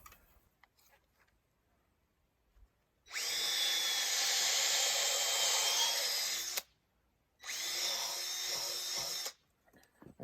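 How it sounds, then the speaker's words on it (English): A power drill pre-drilling hard oak fence posts runs in two long, loud bursts, the first about three and a half seconds, the second shorter, with quiet gaps between. "I started pre-drilling these oak posts."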